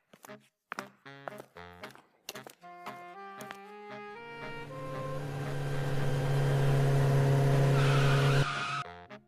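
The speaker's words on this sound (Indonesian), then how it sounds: "Cil, kamu kalau bawa motor biasa aja dong" A cartoon motorbike engine stutters through a few choppy bursts, then revs into a long, rising, sustained whine as it rides off, loud and close before cutting out.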